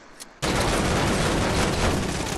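Video game gunfire erupts suddenly after a near-silent moment and continues as a dense, loud, unbroken volley of shots.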